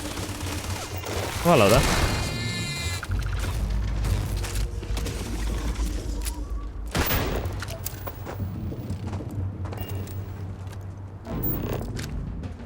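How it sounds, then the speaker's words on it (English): Starfield combat with a grenade blast and scattered gunfire, a sharp explosion followed by bursts of shots and impacts under a continuous low rumble, while a voice talks briefly. "Oh, just lobbing a grenade."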